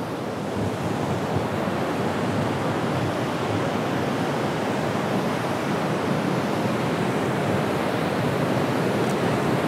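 Ocean surf at Pantai Selatan, the south coast, roars steadily and fairly loud, a dense continuous wash of breaking waves with no voices.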